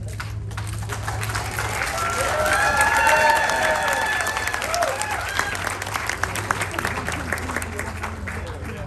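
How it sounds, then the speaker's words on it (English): Audience applause with some cheering at a Navajo Code Talker Day 2022 gathering, a steady sustained crowd clapping lasting several seconds with faint voices and a background hum underneath. "I'd like to give a good round of applause to Chiche, Mr. Frank Dayish"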